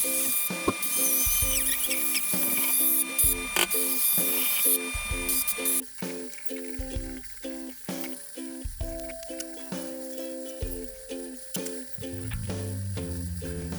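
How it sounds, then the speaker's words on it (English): A Dremel rotary tool whines against a cedar sign, sanding away router burn marks in repeated short bursts with brief pauses, loud and close throughout. "now I use a Dremel in order to try to get rid of any of the burn marks"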